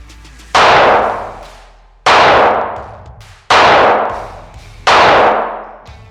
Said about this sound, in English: So let's shoot a few rounds off and confirm 0.